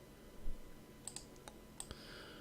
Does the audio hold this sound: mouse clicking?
yes